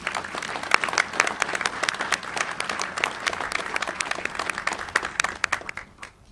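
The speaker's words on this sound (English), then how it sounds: "How about a big round of applause for Jim's family?" Audience applause at a Navy NAVSEA change of command ceremony, many hands clapping with distinct sharp claps standing out of a steady crowd wash, fairly close and even, tapering slightly at the end.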